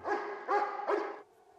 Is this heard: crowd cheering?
no